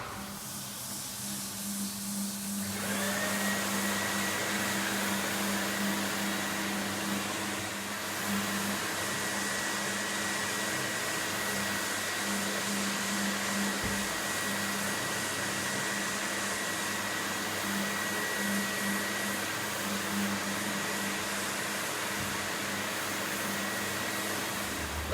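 Floor sanding machine running a red 220 screen abrasive over a wooden floor, a steady whirring hum with airy hiss starting after a few seconds and continuing evenly, moderately close, with no talking.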